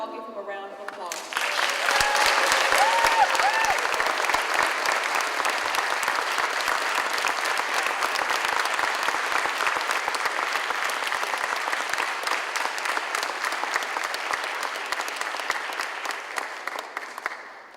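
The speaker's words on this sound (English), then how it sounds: "If we can all give him a round of applause." Sustained audience applause at a 2008 special needs graduation ceremony, a dense steady clapping crowd that starts after a brief moment and continues at full strength throughout, with no talking over it.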